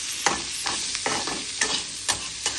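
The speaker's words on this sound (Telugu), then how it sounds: "కొంచెం పసుపు, ఇవి తొందరగా ఆనియన్ వేగిపోతాయి" Onions with turmeric sizzle and fry in a pan while a utensil stirs them, leaving a steady hiss with several sharp scraping clatters spaced roughly half a second apart, close and fairly loud.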